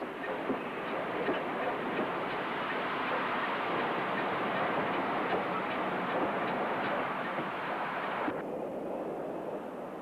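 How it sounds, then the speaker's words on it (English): A train, hauled by Saltley's Black 5 steam locomotive 44966 on an evening New Street to Gloucester stopping service, sounds at Blackwell atop the Lickey Incline: a steady, broad rumble and rattle throughout, with no voices. "Saltley's Black 5 44966 pauses on an evening New Street to Gloucester stopping service."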